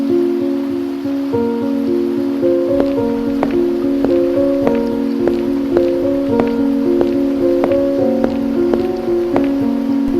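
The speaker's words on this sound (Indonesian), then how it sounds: "Hujannya deras banget, airnya naik terus." Heavy rain falls at night beside a rising river, a continuous hiss of drops beneath a prominent melodic music score that plays throughout and partly masks the downpour.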